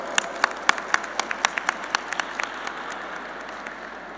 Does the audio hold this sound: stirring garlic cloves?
no